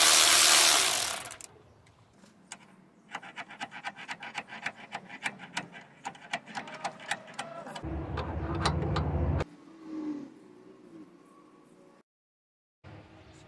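A ratchet works loose a stuck, rusty ABS sensor bolt at the front wheel of a Nissan Rogue, giving bursts of rapid close clicking with pauses and a louder mechanical rumble partway through.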